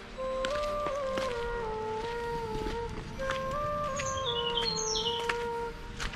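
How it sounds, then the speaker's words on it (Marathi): Birds singing in the Girnar forest near Junagadh, Gujarat, by a forest road with a stream nearby; clear whistled notes and higher chirps repeat over a soft, steady outdoor background, with no talking. "सुंदर असे पक्ष्यांचे आवाज,"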